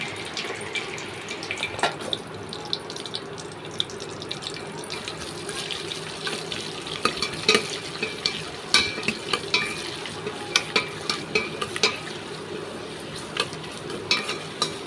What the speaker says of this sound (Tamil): எண்ணெய் காஞ்ச உடனே நம்ம இதுக்கு போடுவோம் பாருங்கள் சிக்கனுக்கு அந்த போடுறதுல வெங்காயத்தை கொஞ்சம் எடுத்து நல்லா வதக்கணும்